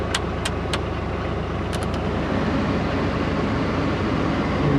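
A truck that sat unused through two winter months idles steadily after a cold start, a broad continuous engine rumble close by, with a few brief high clicks early and near the two-second mark.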